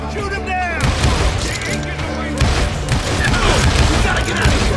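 Gunfire in the video game Call of Juarez Gunslinger: shots and booming blasts burst out in loud clusters amid shouting voices, close and dense throughout the few seconds.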